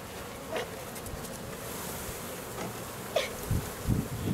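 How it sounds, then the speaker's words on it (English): A low hum of buzzing honey bees being poured into a hive over a soft, rushing background, with a few louder close bumps and knocks toward the end and no voices. "this is what I said when I said we were pouring bees."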